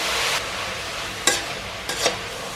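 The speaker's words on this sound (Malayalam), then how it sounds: "എപ്പോഴും പറയുന്നത് പോലെ ഉള്ളി വഴറ്റാൻ ഉപ്പിട്ട് കൊടുക്കാം" Onions sauté with salt in a kadai for a Kerala-style fish biryani, a steady hiss of frying broken by two sharp stirring scrapes and a brief flare of sizzle, close and alone.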